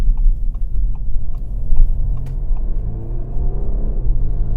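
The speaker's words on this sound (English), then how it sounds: "you can hear how aggressive this engine is" A 2018 Audi A5 Sportback engine revs up with a deep, rising rumble, close and loud, pitch climbing steadily as it accelerates.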